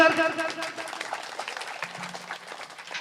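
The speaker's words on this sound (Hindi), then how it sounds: "जोरदार ताली आई जाओ सर" An audience at an Independence Day welfare foundation event applauds, with loud clapping at the start fading into lighter scattered claps while a voice speaks over it through a public address system.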